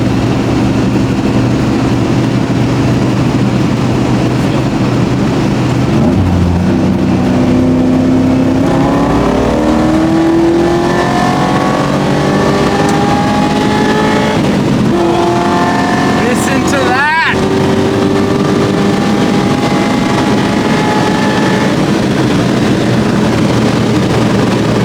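Toyota Celica Supra with a swapped 1UZ V8 revs and accelerates along a race track straight, the engine note loud and continuous, rising and falling in pitch through gear changes, with people talking over it.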